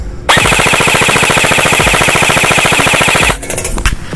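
A Neptune 10-inch Short airsoft gun fires a sustained full-auto burst of rapid, evenly spaced shots lasting about three seconds, loud and close, ending abruptly with a few faint clicks and handling noises after.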